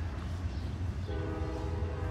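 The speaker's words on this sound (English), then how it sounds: "I did not expect the train to come right now." A freight or passenger train rolls past at a railfanning spot, its horn sounding as a steady tone over the continuous low rumble of the cars, loud and close throughout with no talk.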